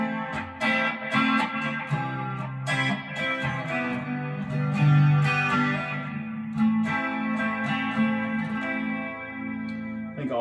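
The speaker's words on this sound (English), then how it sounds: "it's probably my favorite clean tone on here just for finger picking" A clean electric guitar, a custom hand-carved Telecaster, finger-picked, lets its notes ring and overlap in a steady, gentle pattern, close and alone with no voices.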